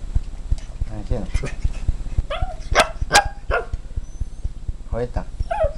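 A Miniature Pinscher barks and yips several times in short bursts, close by, over a steady rhythmic ticking background, with people talking intermittently.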